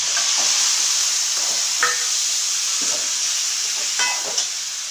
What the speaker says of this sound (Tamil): இப்போ பாருங்கள் நான் தக்காளி சேர்த்துக்கிறேன்